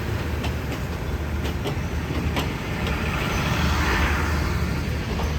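Thai special express train no. 38 with a rake of Daewoo sleeper cars, heard at night on the southern line as a steady rumbling roar with rattling wheel clatter, continuous and moderately loud throughout.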